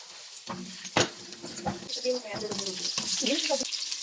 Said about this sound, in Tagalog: magigisa na po tayo. Naglagay na po tayo ng oil. Yung ating bawang.